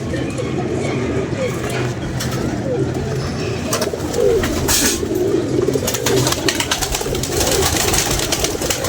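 Pigeons coo in a loose flock of about thirty birds, steady soft burbling running through the whole stretch alongside outdoor background noise, with people talking nearby.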